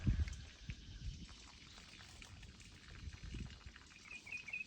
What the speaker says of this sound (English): we have the sound of urine hitting the ground beside us in the background